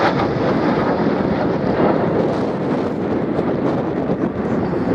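A display aircraft makes a pass at the Biggin Hill Airshow, a loud, continuous roar buffeted by wind on the microphone.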